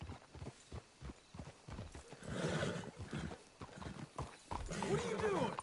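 Horses in the video game Red Dead Redemption II clop and snort nearby, hoof beats and a whinny mixed under steady conversation between characters.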